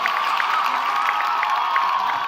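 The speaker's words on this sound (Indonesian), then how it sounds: "Silakan tepuk tangan sekali lagi untuk mereka dong." An audience applauds and cheers for dancers on an Indonesian dance competition show, a sustained dense clapping wash with scattered whoops and shouts rising above it at a fairly close, loud level.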